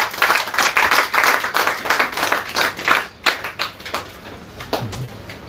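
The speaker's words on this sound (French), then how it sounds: "Acclame le Seigneur Jésus." A church congregation claps in a dense, rhythmic burst of applause that gradually thins out and fades to scattered claps.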